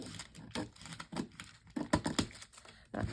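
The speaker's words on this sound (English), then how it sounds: "I'm going to cut this down." Material for a wedding journal cover is cut with a run of short, uneven snips and crisp scrapes. The sound is close and fairly quiet, with no talking.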